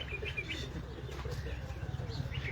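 Pigeons at a Lahore pigeon-keeping loft, soft low cooing repeating in short bursts over a quiet background, with faint chirps nearby.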